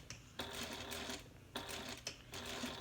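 A sewing machine stitching across fabric at an angle, with several bursts of rapid, close mechanical whirring broken by short pauses and no talk.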